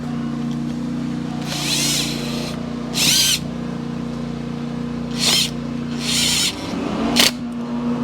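Ratchet tightening bolts on a Sea-Doo personal watercraft during alignment work at the PTO end, heard as several short bursts of rapid clicking spread across the clip over a steady low hum.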